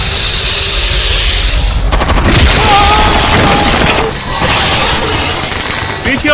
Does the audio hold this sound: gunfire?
yes